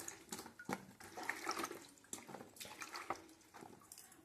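Cut spinach, eggplant, radish and potato are washed piece by piece in water, with close, irregular splashing and sloshing in short bursts.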